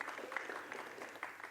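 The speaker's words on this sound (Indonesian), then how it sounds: "Boleh tepuk tangan buat teman-teman sekalian." Audience applause at a festival lecture event, a steady wash of clapping from a crowd at moderate distance, continuous for the whole stretch with no voices standing out.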